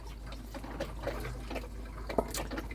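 Pink antifreeze runs through a motorhome toilet during winterizing, a faint trickling flow with a few soft drips over a steady low hum.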